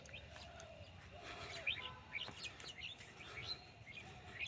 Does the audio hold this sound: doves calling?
yes